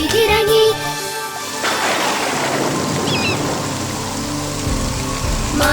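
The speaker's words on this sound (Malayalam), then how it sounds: "മാനമിരുണ്ടു കറുത്തു വന്നു, പെട്ടെന്നു പേമാരി പെയ്തിറങ്ങി." Heavy rain pours down in a Malayalam cartoon story, a steady loud broadband wash of downpour that starts abruptly after a brief musical bit and continues to the end.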